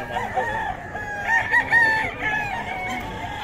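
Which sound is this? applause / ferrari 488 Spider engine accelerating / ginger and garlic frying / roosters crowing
roosters crowing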